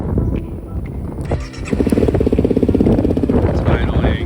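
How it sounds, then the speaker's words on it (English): A small engine idles with no throttle close by, a rapid, steady pulsing rhythm after a few seconds of rough clatter. "It's idling,"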